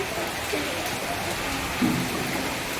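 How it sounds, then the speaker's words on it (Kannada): Rain falling in bright sunshine, a faint, even patter of drops through the whole stretch, with a soft thump near the end and no voices. "ಬಿಸ್ಲಾಗ ಮಳೆ ಅಲ್ಲ ಹೆಂಗ್ ಬರಕದ ನೋಡಿ"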